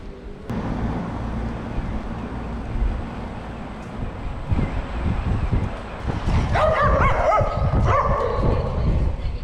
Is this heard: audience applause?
no